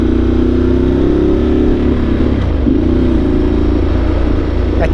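A Ducati motorcycle engine drones loud and close throughout while riding on an open road, a steady mid-pitched hum with a slight dip and recovery in revs partway through.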